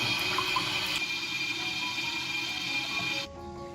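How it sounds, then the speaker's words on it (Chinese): Water runs steadily from a tap into a sink while sausage casings are stretched open and rinsed inside, a continuous close splashing flow that drops off sharply near the end. "再把肠衣撑开，冲洗一下里面。"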